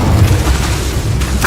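A fire spell cast in the video game Hogwarts Legacy: a dense, loud rumbling boom that holds steady throughout, with a brief bright flare near the end.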